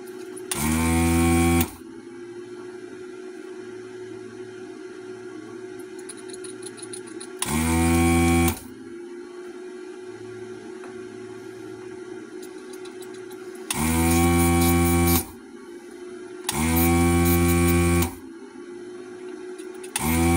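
A ZD-915 vacuum-pump desoldering station runs in four loud bursts of a few seconds each, with steady low machine hum and quieter noise between them.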